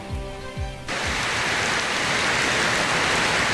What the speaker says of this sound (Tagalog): Bumuhos ang malakas na ulan sa ilang bahagi ng Luzon at Metro Manila